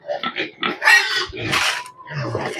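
Young backyard-raised piglets grunt and squeal in quick, overlapping bursts at feeding time, close up and busy over a short stretch.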